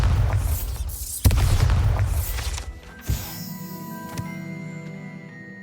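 A Bombarda spell blast in Hogwarts Legacy: a sharp loud boom and crackling burst, then a second smaller impact and ringing tonal debris fading out.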